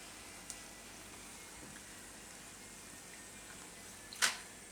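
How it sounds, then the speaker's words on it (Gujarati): Besan para frying in oil on low heat, a faint, steady soft sizzle close by, broken by a brief louder crackle near the end. "આને આપણે તળી લેવું. તો આને આપણે આ રીતના તળવાના ધીમા તાપે એકદમ સરસ."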